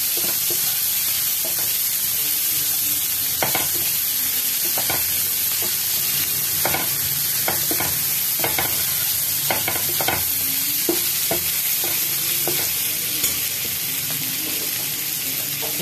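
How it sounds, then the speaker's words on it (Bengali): Peanuts and a green chili frying in oil in a new frying pan, a steady loud sizzle broken by repeated scraping stirs of a spatula against the pan. "এবার এটাকে একটু ভালো করে ফ্রাই করে নেব।"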